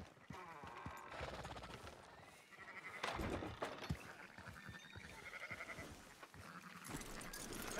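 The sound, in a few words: sheep bleating in video game Red Dead Redemption 2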